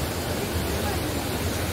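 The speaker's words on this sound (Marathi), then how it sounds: "सोमसर माग पाणी कसलं वाहायला लागलंय." Sina river in full flow after rain, steady broadband rushing water heard continuously and fairly loud from close by, with no voices over it.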